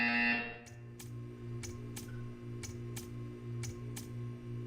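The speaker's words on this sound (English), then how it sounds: "You will hear a buzzer." A Portal 2 test-chamber buzzer sounds in a steady string of about eight short, evenly spaced electronic pulses over a low mechanical hum, loud and close, with no one speaking.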